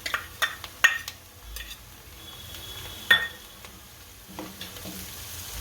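Chili and garlic paste dropped into onions frying in a pan, a soft steady sizzle broken by a few sharp metallic clinks of a spoon against the pan.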